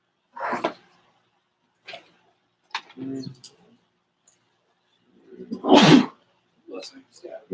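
A single close, sharp sneeze bursts out in a quiet room at a debate team prep session, set between a few brief scattered noises and short bits of speech.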